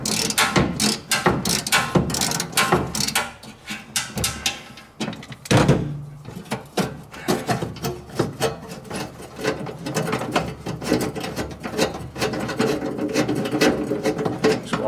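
A ratchet with an extension working a bolt loose during a small restoration job, clicking in rapid continuous runs of pawl ticks with a brief pause midway, close and fairly loud, with no talking.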